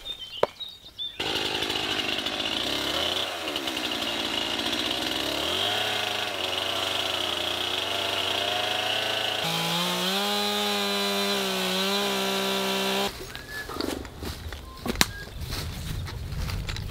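A chainsaw cuts through a wooden brace for a barbed wire fence, its engine whining loud and close, pitch rising and falling as it bites into the wood, then dropping to idle and sputtering near the end.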